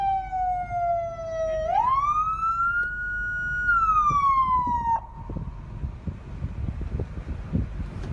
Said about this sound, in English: he takes his time to turn off the siren